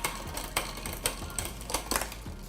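A bicycle rear derailleur being shifted and adjusted, chain clicking onto the sprockets in a series of sharp, close mechanical ticks, about six in quick irregular rhythm.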